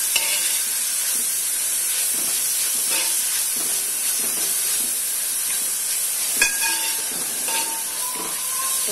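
Sliced onions sautéing in a pan for a boti (beef tripe) curry, giving a steady, close frying hiss with faint stirring scrapes throughout and no talk.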